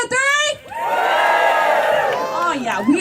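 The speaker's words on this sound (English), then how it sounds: "I want to hear a big, rowdy Blue Mountain cheer" Lumberjack show crowd on one side of the stands letting out a big, rowdy cheer, loud sustained shouting and whooping from many voices with children's high yells, swelling briefly after a short dip and staying strong to the end.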